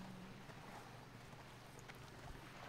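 Horse hooves clip-clop steadily as a mount is ridden through Sholazar Basin in World of Warcraft, soft and continuous beneath a constant low ambient hum.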